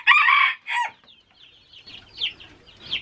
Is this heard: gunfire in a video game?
no